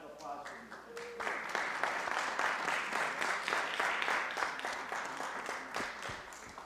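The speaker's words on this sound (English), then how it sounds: "One more round of applause for these kids." An audience at a Fresno city council meeting gives a round of applause for honored students. The clapping is lively and sustained, with sharp individual claps forming a dense, even patter that swells and then thins toward the end.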